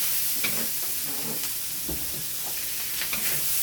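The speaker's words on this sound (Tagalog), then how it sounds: "Igisa hmm. lang po natin ng bawang at saka sibuyas." Garlic and onion sautéing in a pan for pansit bihon canton, a continuous hissing sizzle with occasional stirring scrapes, moderately close and without speech.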